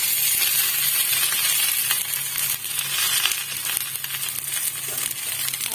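Oats cutlets fry in a pan of oil with a loud, continuous bright sizzle and faint crackling that dips slightly now and then.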